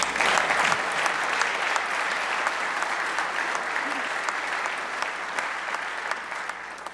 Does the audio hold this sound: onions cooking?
no